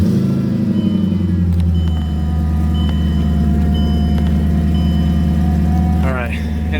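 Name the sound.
Mercedes CLK55 AMG with M113K engine starting up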